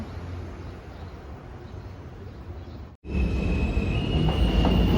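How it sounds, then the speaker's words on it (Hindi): An elevated subway train passes 111 Street station in Queens, New York City, with a loud, steady rumble of wheels on the track. After a brief dip, a sustained high wheel squeal rides over the roar. No one speaks. "ये सामने एक ट्रेन जा रही है ऊपर सबवे की।"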